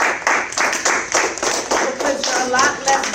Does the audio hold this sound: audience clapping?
yes